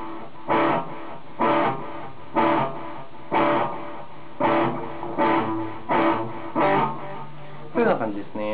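Distorted electric guitar through a Zoom G2.1u multi-effects unit with delay and reverb, played in about nine evenly spaced strummed chords with echoing tails, fairly loud and alone.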